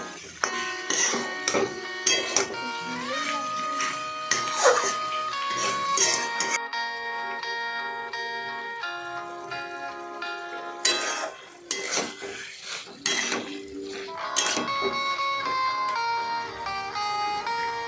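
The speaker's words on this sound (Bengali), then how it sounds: "তারপরে এদিক ওদিক করে নাড়াচাড়া করলাম।" Fish curry with onion stalks being stirred in a pan, with repeated metal scrapes and clinks over a backing of music, some parts busy and some stretches quieter.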